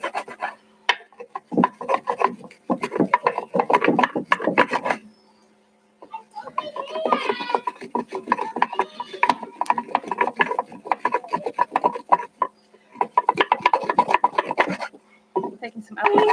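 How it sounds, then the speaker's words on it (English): Wood rubbed against wood to start a fire by friction at home, making close, rapid rasping strokes in long bursts with short pauses between them. "So I'm just gonna keep rubbing until it starts smoking."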